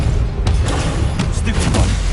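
Spell blasts in the video game Hogwarts Legacy, a few sharp bursting impacts punching through a steady, heavy rumble of combat noise, each hit brief and loud, spaced irregularly across the scene.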